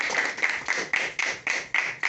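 An audience at a business presentation claps in response to a request, producing a fairly steady run of rhythmic claps that sounds moderately loud and close.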